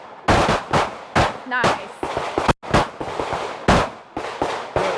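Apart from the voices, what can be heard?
gunshots at a shooting range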